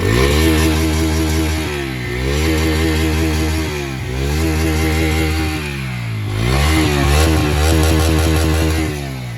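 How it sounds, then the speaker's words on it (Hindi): A CNG-fuelled motorcycle engine revs hard several times, rising and falling in pitch with a loud, close, rattling exhaust note. "और आवाज़ सुन भाई, थ्रोटल दे बढ़िया करके।"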